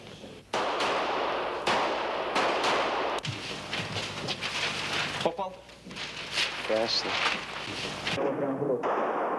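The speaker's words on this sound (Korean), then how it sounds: "사격 훈련도 예외는 아닙니다" Gunshots ring out at shooting practice during military-style training by a Russian right-wing youth group, with several sharp, loud reports at irregular intervals and a voice talking over them.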